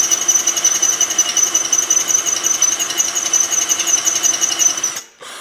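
A power drill bores holes in steel plate for a 100-ton press brake build, running at low speed with a steady, loud whirring hum and rapid chattering vibration for about five seconds before it abruptly stops.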